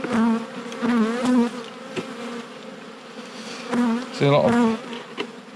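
Honeybees buzz at a hive entrance, a close, continuous drone with individual bees whining past now and then. Someone speaks briefly over the buzzing.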